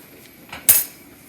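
A spoon knocking against a pot while pasta is stirred, a faint swish followed by one sharp metallic clink, then quiet.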